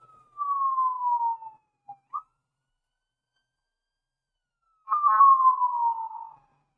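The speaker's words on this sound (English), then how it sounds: "here come the sirens." Two long falling siren wails separated by short chirps and a pause, clean and isolated against silence.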